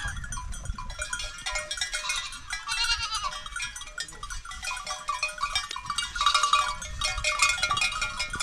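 Many sheep and goats bleat continuously nearby on a Carpathian mountain pasture, overlapping calls mixed with faint bell-like clinks.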